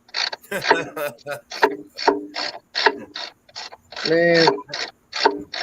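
A ratchet wrench clicks in quick, rhythmic bursts during a roadside repair in the dark, with someone talking over it.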